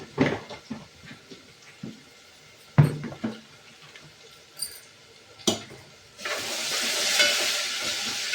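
Garlic and turmeric frying in a pan: a few soft knocks and stirring clinks come first, then a loud, steady sizzle rises and holds to the end.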